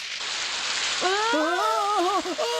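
Steady rain hiss fills the whole clip, and voices start talking partway through over the downpour.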